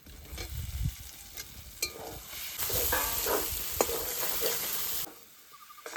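Steady frying sizzle with stirring scrapes and clatter as fried potatoes are turned into masala in a hot pan, then the sizzle drops away near the end.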